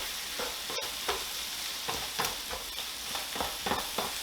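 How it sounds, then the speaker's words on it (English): Flour is stirred into hot fat in a cooking pan for shepherd's pie, with a constant close sizzle broken by rhythmic spoon scrapes and one sharp knock against the pan. "Gonna go ahead and mix this in. Let that flour absorb some of that fat."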